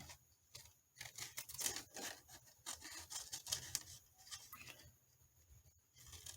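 Scissors snip through a fabric clothes tag in a run of quick, close, crisp cuts with short pauses between bursts, the blades rasping and clicking at close range.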